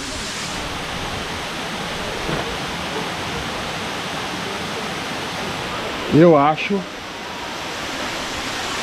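Steady broadband rush of an icy waterfall in the Chapada's Vale da Lua, filling the whole clip; a voice speaks briefly near the end over the roar.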